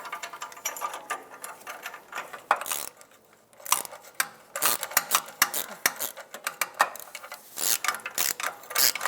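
A wrench ratchets a catalytic converter mounting bolt tight on a 2008-2012 Jeep Liberty 3.7L V6, giving close, irregular bursts of rapid clicking with short gaps between strokes.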